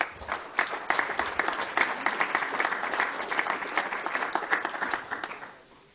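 Audience applause fills a civic hall during a midterm address by a city leader, a dense, steady clapping that holds for several seconds and then fades away.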